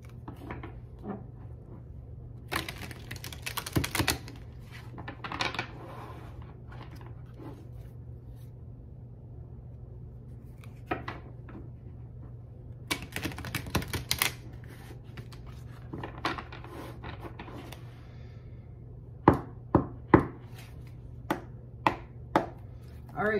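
Tarot cards being shuffled, with soft riffling and sharp taps in scattered bursts, a few closely spaced clicks near the end, over a quiet room hum.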